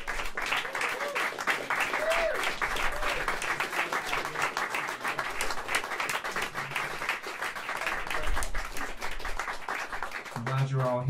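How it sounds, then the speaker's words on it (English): A jazz club audience at Mezzrow claps warmly after a piano and bass duo set, a sustained dense round of applause with a few voices mixed in. "Let's have another big round of applause for these two wonderful musicians."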